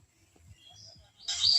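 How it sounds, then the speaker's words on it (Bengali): Common mynah birds chirping in a garden with aster and chrysanthemum plants and lychee trees, a few soft scattered calls building to a brighter burst of chatter at the end, fairly faint and with no talking. "শালিকের কিচিরমিচির শোনা যাচ্ছে"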